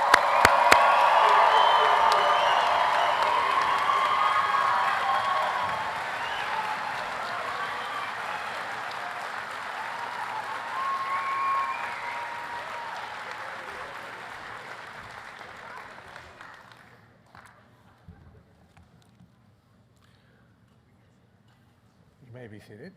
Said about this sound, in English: let's give this class one more round of applause